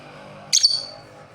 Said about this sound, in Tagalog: Ayan mga ibon ko talaga guys.